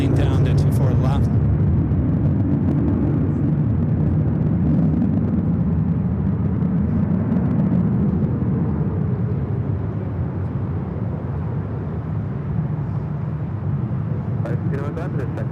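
JetBlue airliner rolling down to runway 24 left at LAX, a loud sustained low jet-engine roar rumbling steadily from a distance, with a voice talking over it.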